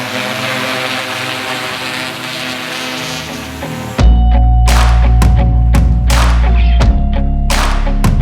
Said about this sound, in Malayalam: ഇതൊരു ടെൻ ലിറ്റർ അഗ്രികൾച്ചർ ഡ്രോൺ ആണ്